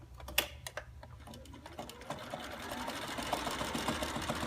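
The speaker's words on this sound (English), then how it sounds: "So I'm going to stitch that arm down" A sewing machine stitches down the arm of a stuffed cloth doll, its needle running in a fast, steady rattling burst up close after a few separate clicks, with no talking.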